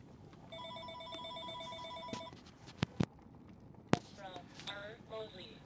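A telephone rings with a repeated electronic trill, several pulses that start and stop, along with a few sharp clicks and some indistinct speech near the end.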